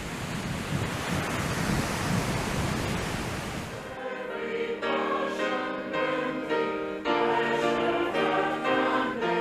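Strong wind and sea spray roar across the open deck of a transatlantic cruise ship, a dense, loud rush that cuts off abruptly about four seconds in, giving way to music.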